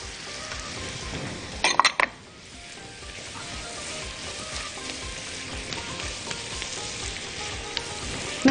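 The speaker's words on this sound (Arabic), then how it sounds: "هنشوح بقى السوسيس. يلا نحط كمان الفلفل." Sausage and peppers sautéing in a pan with a constant dense sizzle throughout, broken early by a short burst of clattering as the pieces are moved around.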